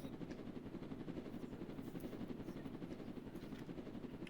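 Steady helicopter rotor drone from a video game set near a prison, continuous and fairly distant with an even rumble and no talk over it.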